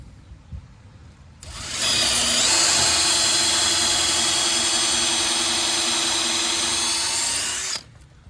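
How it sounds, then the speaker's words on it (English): A power drill pre-drills into deck framing wood, starting abruptly and running as a loud, steady high-pitched whine for about six seconds before cutting off sharply. "you have to pre-drill, that way you don't damage the wood"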